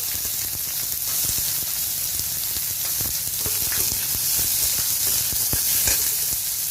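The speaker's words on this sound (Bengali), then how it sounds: "আমি ঘি দিয়ে ফ্রাই করছি, তোমরা চাইলে তেল দিয়েও করতে পারো। গরম দিয়ে দিচ্ছি পেঁয়াজ কুচি" Chopped onion sizzles and crackles in hot ghee in a pan, a steady close frying hiss with scattered sharp pops throughout and no talking.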